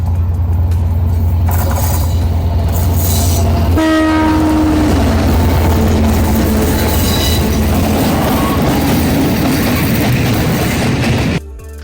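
A train passes close by near Pattipola station on the Horton Plains line, sounding a loud horn blast in the middle, with heavy rumbling and rhythmic wheel clatter that ends abruptly.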